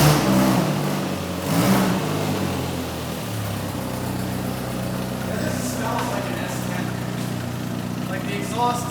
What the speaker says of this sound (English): Yeah, I definitely hear the exhaust leak.